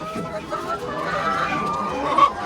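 Backyard chickens cluck and murmur nearby, soft irregular calls rising and falling over a low outdoor background, with one slightly louder squawk near the end.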